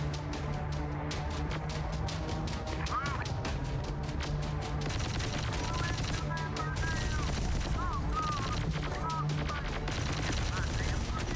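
Rapid laser gunfire in the shooter Terminator: Dark Fate Defiance, dense repeated bursts of shots over a constant battle rumble, with chirpy electronic effects mixed in.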